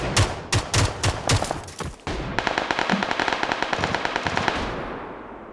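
Gunfire in the video game PUBG Lite: several loud separate shots first, then a long fast rattling burst of automatic fire that fades out near the end.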